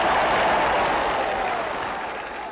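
A crowd applauding Dr. King's I Have a Dream speech, dense steady clapping that stays loud and broad before tapering slightly toward the end, with no voices standing out.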